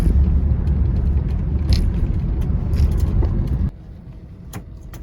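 A Cadillac Eldorado cruising along the road, a steady loud low rumble of engine and tyres from inside the car that suddenly drops to a quieter hum, with a few light clicks and rattles.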